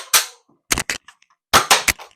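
A Nerf AR-15 foam dart blaster fires several quick snapping pops, one alone followed by a pair and then a tight cluster of three, loud and close with silence between.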